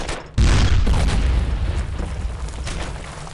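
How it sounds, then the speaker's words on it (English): A tank cannon fires in the WWII shooter Brothers in Arms: Earned in Blood, a sudden loud boom whose heavy low rumble rolls on and slowly fades over several seconds, with no talk. "Tank's firing now."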